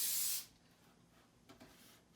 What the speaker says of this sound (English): I usually do a little test spray just on the side to make sure I'm getting a nice good mist.